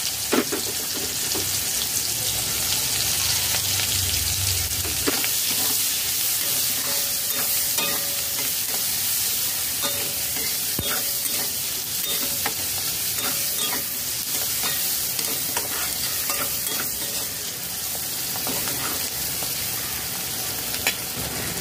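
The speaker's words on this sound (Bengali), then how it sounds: "পেঁয়াজ কুচি দিয়ে একটু নাড়াচাড়া করে নিয়েছি।" Chopped onions, two medium ones, stirred and fried in a pan for a yogurt chicken dish: a steady, loud sizzle runs throughout with scraping stir strokes and occasional clinks, no talking.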